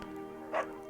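Bucket, a dog in the video game Firewatch, lets out a single short bark-like yip, brief and moderately near over a steady quiet background hum.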